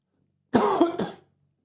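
Two quick, close coughs in a row, loud against a silent background, from a sports broadcaster during a baseball lineup announcement.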